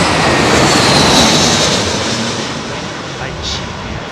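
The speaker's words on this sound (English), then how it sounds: "Proper gnarly jetliner. Big left-hand bank." Boeing 777 jetliner engines at a windy Heathrow Airport give a loud, broad, rushing roar that stays strong, then slowly fades as the aircraft moves away, with no talking over it.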